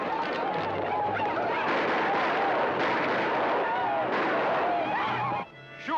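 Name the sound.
gunfire in western TV show clip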